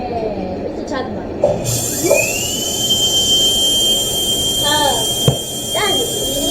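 High-pitched dentist's drill whine, a steady tone that holds for several seconds and rises partway through, with children's voices talking over it in a guessing game.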